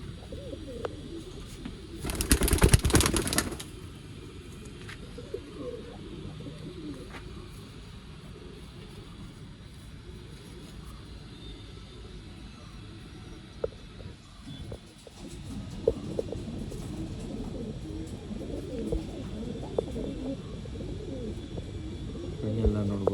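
Pigeons coo in soft, repeated low calls around a sale of old-line breed pairs, with a brief loud burst early on and people talking at times.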